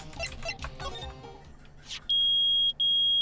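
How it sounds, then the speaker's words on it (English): A loud, steady electronic beep sounds twice with a brief gap between, following a stretch of muffled voices and movement. "The metal detector found something."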